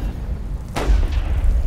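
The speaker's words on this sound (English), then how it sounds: "Grenades in the hole!" One sharp grenade blast in Warfare 1917 bursts out near the middle, followed by a low rumbling tail over a steady background of battlefield noise.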